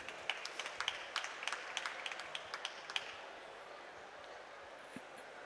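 Scattered applause for a contestant at a COP27 youth adaptation solutions challenge, a modest burst of individual claps from a small audience that thins out and fades to near silence after a few seconds.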